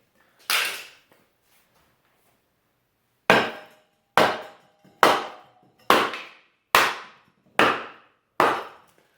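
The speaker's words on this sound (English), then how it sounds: "as I hammer it down, it's spreading right here, and it is binding" A hammer drives a large log down into a Kindling Cracker splitter: one sharp strike, a pause, then seven evenly spaced loud blows of metal on wood, each ringing briefly and decaying.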